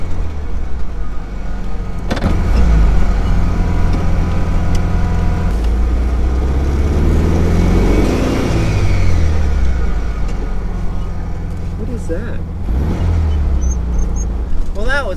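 A VW Beetle engine running, a loud, steady idle and rev with a high whine buzz riding over the low rumble, the pitch rising and falling midway through.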